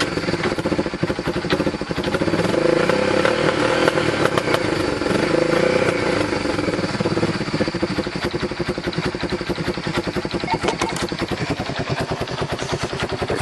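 A 1991 Honda FourTrax ATV engine kickstarted and running, a loud, close, rough clattering idle with rapid firing pulses that stays steady throughout.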